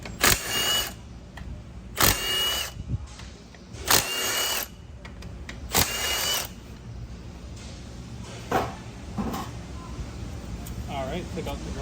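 A power tool runs in several short bursts, loosening 13mm stator bolts from a burnt 8-speed Camaro transmission, with quieter ratcheting and handling sounds between the bursts.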